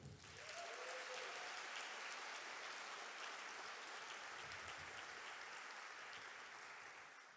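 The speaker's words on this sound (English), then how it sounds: "Can I get a clap for that?" Audience applause at a jazz event celebrating the music of a drummer and composer, a dense, steady wash of many hands clapping that holds for about seven seconds before tapering slightly at the end.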